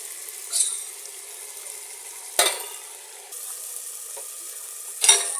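Chicken spaghetti frying in a pan, a steady close sizzle with occasional louder clinks and scrapes of a utensil stirring against the metal.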